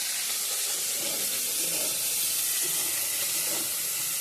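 Fish dropped into hot oil in a pan, giving a steady, loud sizzling hiss with bubbling crackle that fills the whole stretch, no voices over it.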